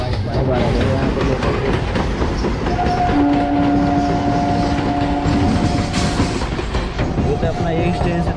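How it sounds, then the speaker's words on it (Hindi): A local train rumbles along with rhythmic clatter of wheels on track, a horn sounding briefly midway, and voices talking underneath. "लोकल ट्रेन कितना स्पीड में चल रही है"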